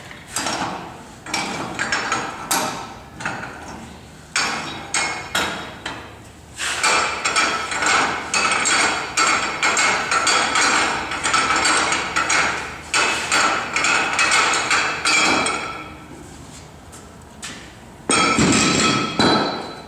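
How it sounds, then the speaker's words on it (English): Repeated sharp metallic hammer blows on a punch driving a metal pin on a lubricator, ringing strikes in bursts, sometimes rapid and steady, sometimes spaced out, close and loud. "Use a hammer and punch."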